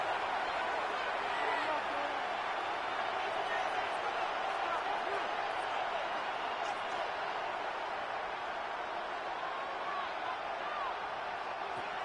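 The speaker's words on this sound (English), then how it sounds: "What about this crowd getting even louder before 3rd and 10?" A stadium crowd roars at a 49ers vs Saints NFL game, building before a third-and-ten play: a dense, steady wall of noise, loud and unbroken throughout.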